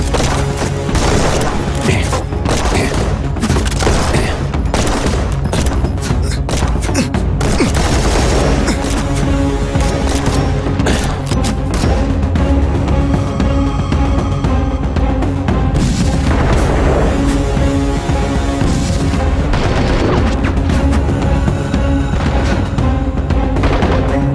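Dense, loud gunfire and booming blasts from a film roll on continuously, with rapid volleys of shots layered over heavy rumbling explosions.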